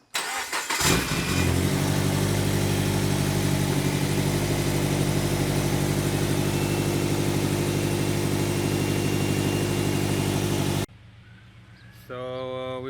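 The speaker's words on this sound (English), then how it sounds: "Start the engine." A Subaru BRZ's engine cranks and catches, then settles into a loud, steady idle with a low rumble for about ten seconds before cutting off abruptly.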